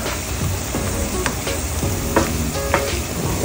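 Fishballs fry in hot oil with a steady close sizzle, while occasional stirring clinks and scrapes sound over it.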